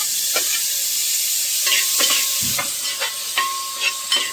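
Tomatoes stirred into a sizzling fish masala in a hot pan, a steady frying hiss with several scraping stirs and light clinks of the spoon against the vessel, close and without talk.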